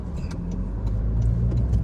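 Several cars passing through an intersection, a steady low road rumble with engine and tyre noise swelling as vehicles go by, close and continuous throughout, with no talking.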